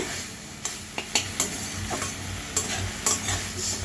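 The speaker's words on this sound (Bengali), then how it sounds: "নেড়ে দিব ভালো করে একটু লবণ দিয়ে দেবো ভালো করে নেড়ে নিব" Note greens (saag) frying in a pan with salt, a low continuous sizzle broken by several scraping, clattering strokes of a spatula stirring the leaves, close and without talk.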